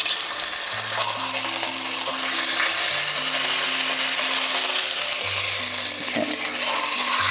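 Beef sears in a hot pan with a loud, continuous sizzle and fry hiss throughout, while soft music plays underneath.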